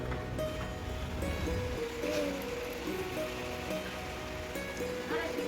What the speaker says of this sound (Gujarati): જબરદસ્ત વરસાદ ચાલુ છે.